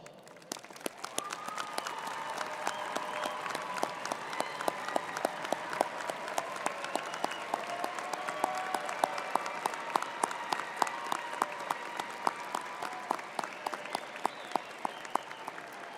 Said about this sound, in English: So would the families of today's graduates please stand for a round of applause.